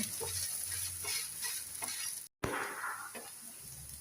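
A flipped dosa frying on a hot pan with a little oil, giving a steady close sizzle with light scraping and stirring touches, briefly cut off by a short gap partway through.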